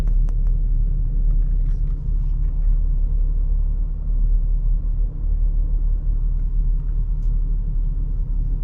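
A 2023 BMW X1 reverses under automatic parking assist, heard as a steady low engine and road rumble from inside the cabin, even and continuous throughout, with no talking.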